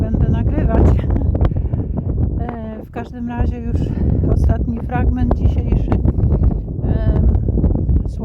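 Strong gusts buffet the microphone outdoors during a walk, a loud, constant low rumble that runs under continuous talking throughout.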